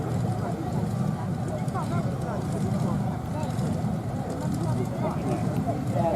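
A tractor engine runs steadily and loudly at a tractor pulling rally, with a dragging clutch, under continuous crowd and voice chatter.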